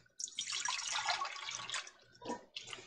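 Water-packed home-canned asparagus spears slide out of a jar with their canning liquid, making a steady, close splashing pour for about two seconds. A shorter splash follows after a brief lull.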